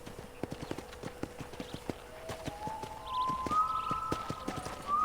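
Steady clip-clop of horse hooves in a slow walking rhythm in Red Dead Redemption, with a rising tonal music line entering partway through.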